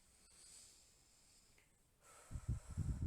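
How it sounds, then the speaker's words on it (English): A single deep, nasal inhale comes in the last second, close and fairly loud against near silence. "I take a big deep breath"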